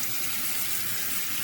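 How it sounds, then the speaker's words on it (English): Cold tap water gushes steadily over a pan of cooked beans, a loud, continuous rushing splash with no talking. "I'm just going to run those under some cold water"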